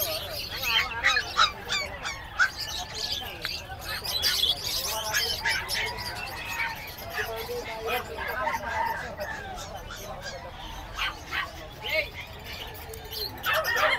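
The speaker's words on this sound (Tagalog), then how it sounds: "Ito naman mga manok, mga Chinese chicken mga boss, ang maliliit." Small Chinese chickens at a busy outdoor pet market, with bird calls and honking fowl clucking and chirping repeatedly amid crowd chatter and other birds.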